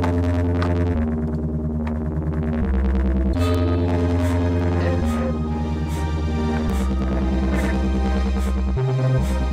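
Distorted bass lead synth from Analog Lab, the 006 AT bass preset, in a Jersey club track: gritty, buzzing sustained bass notes changing pitch every second or so, loud and continuous with no voices.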